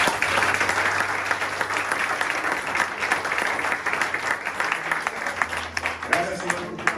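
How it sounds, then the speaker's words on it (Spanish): A church congregation claps loudly and steadily in praise at a sermon, a dense continuous applause with a low sustained tone underneath and faint voices near the end. "Dale un fuerte aplauso al Señor."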